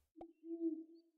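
Owl bird call placed in a video game: a short click followed by a single soft, sustained hooting coo, faint and alone.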